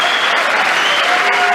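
Dense, steady applause fills a large chamber as the audience claps throughout the 2025 presidential joint address to Congress.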